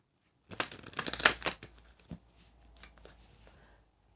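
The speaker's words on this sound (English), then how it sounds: "So let me just shuffle the clarifiers." Tarot clarifier cards are shuffled close by, a quick run of papery riffles and slaps that trails off into softer card rustling.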